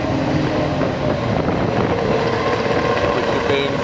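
A lifeboat's engines keep running during recovery from the water in strong winds, giving a loud, steady rumbling drone beneath constant wind noise.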